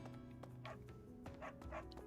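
A dog barks and yips in Fire Emblem Three Houses, several short, bright barks set over steady background game music, moderately near, with no voices.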